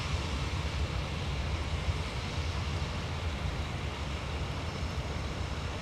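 A Prime Air airliner operated by Sun Country taxis toward de-icing at snowy MSP airport, its engines a steady, muffled rumble and whine from some distance, continuous throughout with no talk.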